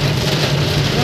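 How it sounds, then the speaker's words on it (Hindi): Heavy rain pours down steadily with a dense, loud hiss, joined by a low engine-like hum underneath. "इतनी तेज बारिश है,"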